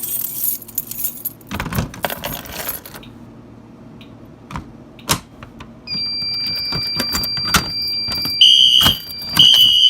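Keys jangle and clink in bursts as a fire alarm key is fished out during a home fire alarm test, and a few bright tonal chirps follow near the end.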